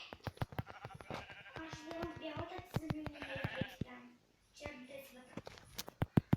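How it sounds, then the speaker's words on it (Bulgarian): A black sheep bleats repeatedly on a Bulgarian homestead, close and clear, with sharp knocks or thuds punctuating the cries and a brief pause before they resume. "Черна овце."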